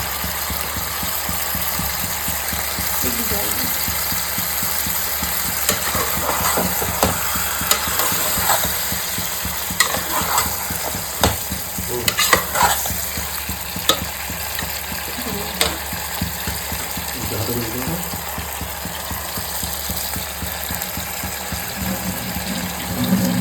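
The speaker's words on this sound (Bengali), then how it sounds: "এবার দিয়ে দিলাম মশলার পেস্ট" Spice paste for a mutton curry frying in a pan, a steady low sizzle with occasional clinks and scrapes of stirring, under a constant engine-like background hum.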